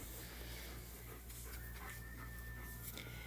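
A dog pants steadily and close by, its quick rhythmic breaths continuing throughout with no talking, after it burst into a room where alder cones are being squeezed for syrup.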